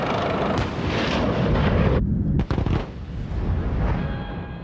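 An M1A2 Abrams tank's main gun fires once with a deep, heavy boom, preceded by loud rumbling engine and field noise, and followed by a rolling echo that decays over a couple of seconds.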